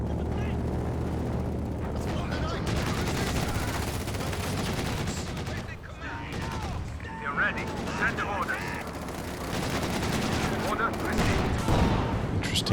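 Gunfire rattles in Company of Heroes 2 during a 2v2 battle: dense, continuous bursts and booms of rifles and machine guns, with a commentator talking excitedly over the clatter.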